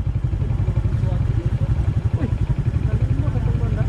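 A motorcycle engine runs with a steady low throbbing pulse during a charity adventure ride at a school in Zamboanga, close and loud, with people talking nearby.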